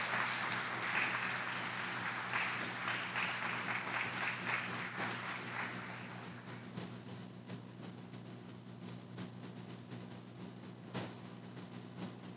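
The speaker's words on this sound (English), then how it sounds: "Please join us in giving a round of applause to these outstanding drill sergeants and instructors." Applause from an audience at an Army aviation brigade graduation ceremony at Fort Eustis, honoring graduating drill sergeants and instructors. The clapping is steady for about six seconds, then fades into quieter room noise with a faint hum.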